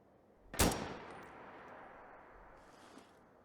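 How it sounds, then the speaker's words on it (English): A single loud gunshot in Fallout 4 cracks out and rolls away in a long echoing tail through woods, leaving faint outdoor ambience afterward. "quiet footsteps in the woods broken by echoing gunfire"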